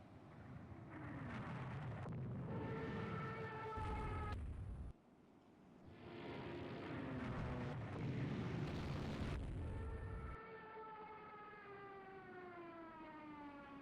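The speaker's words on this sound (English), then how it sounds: "Airbase Stavanger is being bombed." A wailing air-raid siren rises and falls over loud, rumbling explosions as an airbase is bombed in the naval strategy game Rule the Waves 3. The noise is steady for about fourteen seconds, with one brief dip partway through, and no one speaks.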